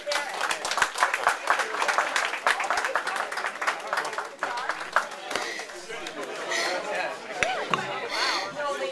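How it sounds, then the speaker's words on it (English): Audience applause for a fiddle player at a Pizza Inn gathering, dense clapping that runs steadily throughout, with crowd chatter and voices mixed in. "Let's give Cindy a big round of applause one more time."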